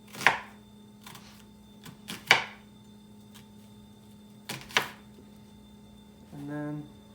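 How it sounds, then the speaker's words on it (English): Several crisp knife strokes chop through an onion on a cutting board, spaced irregularly in small bursts, close and clear, followed by a brief low scraping or clunk at the end. "I'll be slicing vertically down, cutting the onion."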